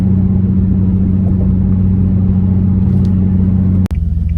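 Infiniti G37 fitted with an ARK Grip exhaust that has come loose and is dragging while the car drives, heard as a steady loud low rumble with a brief dropout near the end.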